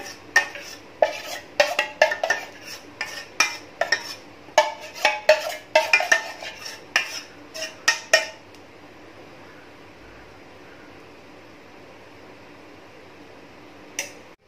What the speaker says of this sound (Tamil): இப்போ நம்ம ரெடி பண்ண சாக்லேட் கேனேஜை நம்ம ஏற்கனவே பேக் பண்ணி வச்சுருந்த கேக் மேலே ஸ்ப்ரெட் பண்ணிவிடுங்க